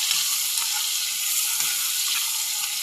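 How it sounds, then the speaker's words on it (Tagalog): Shrimp paste (alamang) frying in plenty of oil with chili, a loud, steady, close crackling sizzle with occasional stirring scrapes. "Ganyan ako magluto ng alamang. Mga sa idol. Gusto ko maraming mantika."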